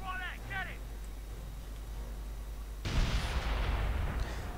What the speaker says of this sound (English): looks like the Americans have gone for their artillery of their own as well